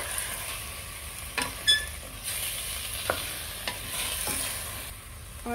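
Garlic, ginger, green coriander, onion and carrots frying in a pot as they are stirred, a soft continuous sizzle broken by a few faint scrapes and clinks of the spoon, with no talking.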